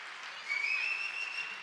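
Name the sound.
audience applause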